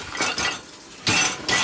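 Dishes are loaded into a dishwasher, with clattering bursts of crockery and cutlery in uneven clusters, close and fairly loud.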